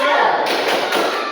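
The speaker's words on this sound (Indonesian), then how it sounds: "Oke, tepuk semangat." Children in a classroom perform the rhythmic Indonesian 'tepuk semangat' clap, a dense, quick burst of group clapping heard close and loud for about a second.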